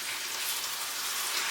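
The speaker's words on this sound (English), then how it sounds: "Turn your heat down. Still let it have the sizzle." A dessert fries in a hot pan, giving a steady, dense, close sizzle with an even hiss throughout and no voices.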